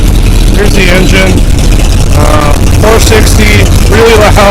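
The 460 V8 in a rusty 1976 Ford F150 with short headers runs loud and rough. A person talks over the steady, throaty engine drone throughout.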